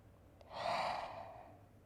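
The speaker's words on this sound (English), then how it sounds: "One more deep breath here." A single slow, deep breath drawn in and let out softly during a yoga forward-fold stretch, close and quiet, with no talking.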